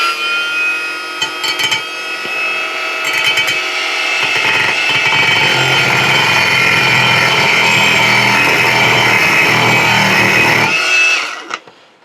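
A non-Makita battery-powered angle grinder running on low speed against a brake disc, a loud steady whine with grinding rasp that holds for about ten seconds before spinning down, with a few short bumps near the start.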